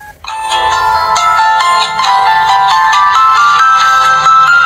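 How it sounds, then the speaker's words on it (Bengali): A button mobile phone plays its ringtone, a loud, continuous electronic melody of bright, clear tones lasting several seconds with no talk. "ফোনটি আমরা যদি রিংটোনের সাউন্ডটা একটু চেক করি"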